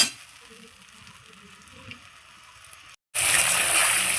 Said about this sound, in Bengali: খুব সুন্দর করে এই পোস্তটাকে আমি কষিয়ে নেব